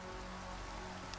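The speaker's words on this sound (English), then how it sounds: "It's raining." Steady hiss of rain falling in Minecraft, an even, continuous wash of soft patter with no breaks, fairly quiet and alone throughout.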